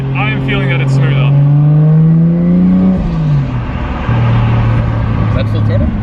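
Toyota Chaser with a turbocharged 1JZ-GTE inline-six and raised boost, heard from inside as the engine pulls hard under throttle, a rising drone that climbs, breaks at a shift and holds steady again beneath people talking.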